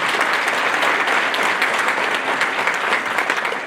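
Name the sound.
conference audience applause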